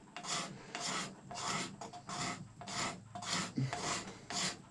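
A steel scraper worked over a cow horn being shaped into a powder horn gives a close, steady series of about nine rasping strokes in an even rhythm, with no voices.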